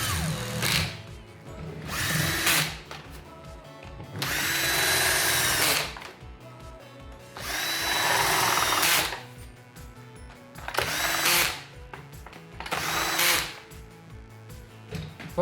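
A power drill in screwdriver mode drives screws back into a Folletto VK 130/131 vacuum cleaner, with four or five loud whirring bursts of a few seconds each, separated by short pauses and faint handling noises.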